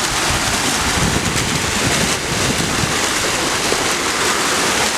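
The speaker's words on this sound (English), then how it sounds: "Monsoon storm boulders, Sydney Peak flagstone, creating this beautiful brand new water feature" Water pours over a new waterfall feature built from Monsoon Storm boulders and Sydney Peak flagstone, a loud, constant splashing hiss filling the clip without pause.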